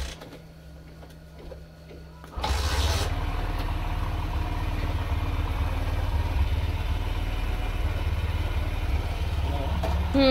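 An engine starts abruptly and then idles steadily at close range, a continuous low rumble with a mechanical clatter that runs on without a break for the rest of the time.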